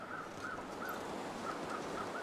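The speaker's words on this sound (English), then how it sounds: "There are crows here." Crows caw in a wintry outdoor scene of the survival video game The Long Dark, several hoarse, evenly spaced calls at moderate distance over a steady wind-like background hiss.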